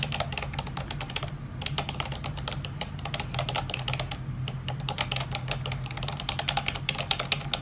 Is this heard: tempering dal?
no